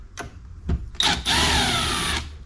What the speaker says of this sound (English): Just gonna push it in with the power tool, but I'm not going to tighten it.